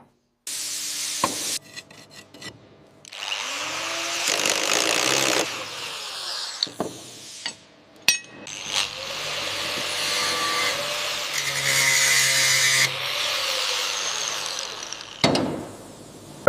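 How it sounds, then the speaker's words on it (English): A heavy-duty angle grinder removes thick rust from an old KV-2 tank, with loud abrasive grinding bursts that start, stop and rasp against the metal, broken by brief pauses and clanks. "We're using a heavy-duty angle grinder to remove decades of rust"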